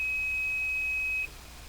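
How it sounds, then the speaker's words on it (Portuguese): A steady high-pitched electronic beep from a multimeter continuity test on a microwave oven coil holds for about a second, then cuts off, leaving quiet background hiss. "ele tem que fazer esse bip, ó."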